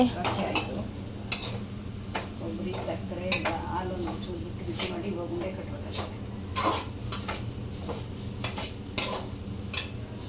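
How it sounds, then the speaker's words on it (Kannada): Frying for rava unde sweets in a home kitchen: continuous sizzling with frequent clinks of utensils against pots and stirring scrapes, plus some faint background voices. "ಈಗ ಮತ್ತೆ ರವೆ ಉಂಡೆಗೆ ಎಲ್ಲ ಫ್ರೈ ಮಾಡ್ಕೋತಾ ಇದ್ದಾರೆ"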